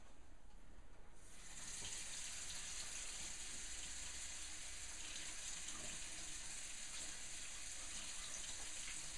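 Water starts running abruptly and continues as a steady, hissing gush during a water test on cookie packaging, close and even in level without voices.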